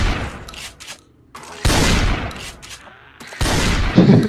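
Gunfire in the zombie survival video game Project Zomboid, with loud bursts of repeated shots in three clusters separated by brief lulls, heard alone without talk.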